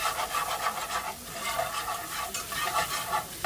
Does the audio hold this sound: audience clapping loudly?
no